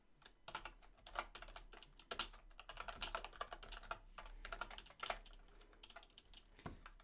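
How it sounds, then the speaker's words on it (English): Fingers type on a computer keyboard in quick irregular bursts of sharp key clicks, close by and fairly quiet, with short pauses between runs and no speech. "Oh no, I'm not typing well."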